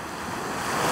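Waves wash steadily onto a sandy Azov Sea beach, a continuous rushing surf with a little wind noise, close and fairly loud, with no voices.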